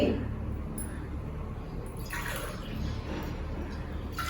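Water pours steadily into a pot of rice and moong dal, a soft continuous splashing and trickling that lasts the whole stretch, with no voices.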